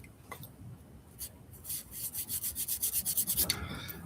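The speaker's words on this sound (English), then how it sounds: "Use different grit sandpaper." Sandpaper rubbed over a knife blade in quick, rhythmic back-and-forth strokes, about a dozen close rasping passes that build after a quiet start, with no talking.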